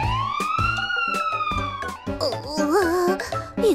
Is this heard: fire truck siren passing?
yes